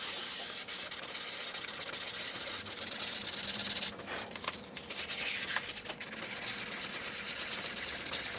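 Fine 800-grit sandpaper rubs back and forth along a Les Paul guitar neck in a steady, close, soft scratching rhythm, broken by a few brief pauses and shifts in stroke.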